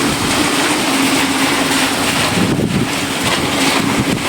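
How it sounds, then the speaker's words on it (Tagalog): Strong wind roars against the microphone in a relentless, loud buffeting rush, with gusts surging and easing slightly but never letting up, and no voices audible. "Kasagsag hangin."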